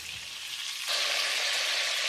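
Oxtail frying in a pan, a quieter sizzle that suddenly swells into a loud, bright, continuous hiss of hot fat as the pieces are flipped, close and steady.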